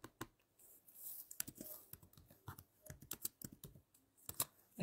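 Rapid, irregular clatter of keys being typed on a computer keyboard, close and fairly quiet, with bursts of clicks and brief pauses between them.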